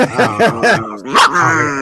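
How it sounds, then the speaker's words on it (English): Dog barking and yipping in a short rapid series, loud and close, with a whine-like tone between barks; no talk alongside. "Does your dog talk English?"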